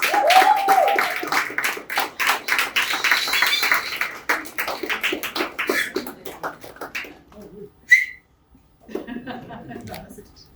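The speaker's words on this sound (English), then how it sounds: "Big round of applause, please." Applause from an audience at the Bengaluru Midnight Marathon team event, brisk clapping for about seven seconds that thins out and stops, followed by a brief beep, near-silence and a few scattered sounds with some talk.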